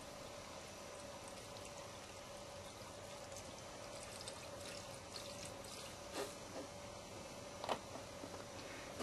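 Oatly oat drink pours steadily into a blender for a smoothie, a soft continuous liquid stream with a few faint clinks near the end, heard alone at low level.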